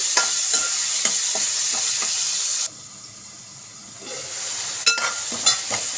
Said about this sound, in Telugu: ఇలా బాగా వేపుకోవాలండి